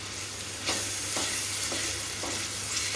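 Green chillies fry in a kadhai with a loud, steady sizzle, broken by regular scraping strokes of a spatula stirring the pan, about once every half second.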